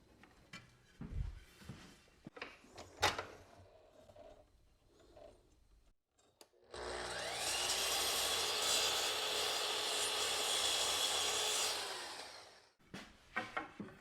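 A wooden piece is cut to length. Clamp and handling clatter come first, then a steady, loud saw whine runs for about six seconds before stopping, and a few knocks follow.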